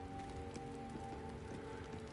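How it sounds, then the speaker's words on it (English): Steady, quiet rainfall in the video game Baldur's Gate 3 makes a continuous hiss, with a faint tonal hum from the game running beneath it and no speech. "it started raining, so hopefully it'll be cool enough in here"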